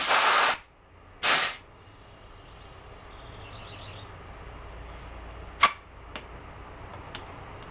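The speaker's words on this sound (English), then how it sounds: "Let's try it with the air gun." Air gun blasting compressed air to seat and inflate a rototiller tire: two short loud hissing bursts up close, then a quiet stretch with a sharp knock and faint clicks.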